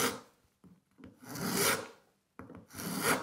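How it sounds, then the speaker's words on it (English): A coarse 12-inch file rasps over the edge of a wooden tab, rounding it over in three long, close strokes separated by short pauses, with no talking. "the easiest way is just to use a coarse file"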